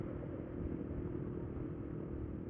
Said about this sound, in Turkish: Ama Şu an inşallah duyuyorsunuz. Çok güzel sesi var arkadaşlar motorun.